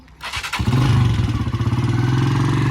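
A motorcycle starts up in a village, then settles into a loud, close, rapidly pulsing idle rumble.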